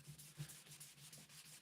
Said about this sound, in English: We're just sanding scratches out.